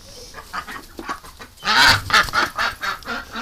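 A flock of domestic ducks on a homestead with a swamp honks and quacks in a loud, agitated burst as a dog approaches, calls overlapping and peaking in the middle, then continuing in choppy bursts.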